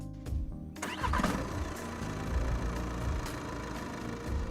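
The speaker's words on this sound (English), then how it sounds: "then start your engine" An Audi car engine cranks briefly, catches and settles into a steady idle, heard close and moderately loud with no talking.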